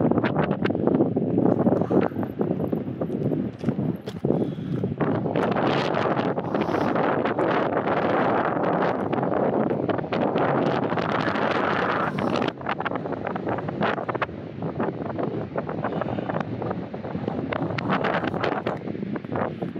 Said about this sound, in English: it is really, really windy up here